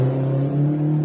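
A rally car driven by Jared Kite on a forest rally stage holds a steady, loud engine drone as it passes nearby, without any voices.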